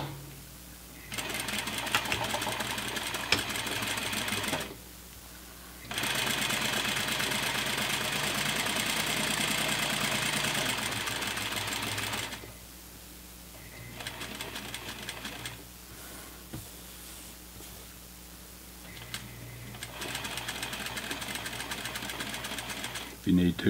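Sewing machine stitching fabric under a presser foot, running in several long bursts of rapid mechanical whirring separated by short pauses, close and clear, with a few quieter stretches between runs.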